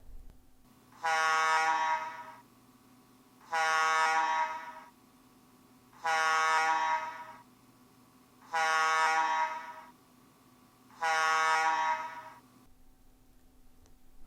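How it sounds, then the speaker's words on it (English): An H2S gas alarm at a gas plant sounds a harsh buzzing tone in five even pulses, each about a second long and separated by roughly two seconds of quiet hum, clear and alone. "H2S alarms have a slow pulse of half second on and 2 seconds off."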